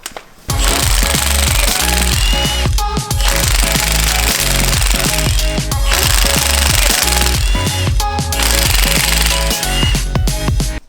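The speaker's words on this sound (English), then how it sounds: "remove the 4 bolts securing the drive shaft to the pinion flange. And in order to do that, we're going to use a 15mm socket" An impact wrench with a 15mm socket removes the bolts securing the driveshaft to the pinion flange on a Jeep JL, hammering loudly and continuously in close rattling bursts with brief pauses between bolts.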